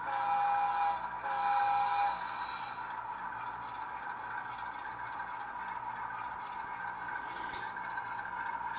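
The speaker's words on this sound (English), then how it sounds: "So we'll go ahead and move up the train here." A model train locomotive runs along its track with a steady mechanical whir and light rail clatter, a brief high tone near the start, fairly close and without speech.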